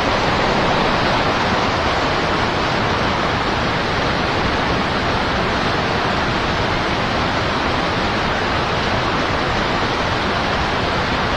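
A small waterfall spills over a spillway on the Fox River, giving a steady, loud, broadband rush of falling water with no pauses and no voices.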